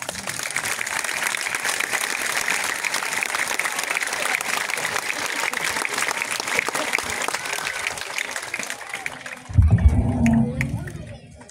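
A large audience at a 2024 graduation closing ceremony claps steadily and densely for about nine seconds before the applause cuts off and a voice begins speaking.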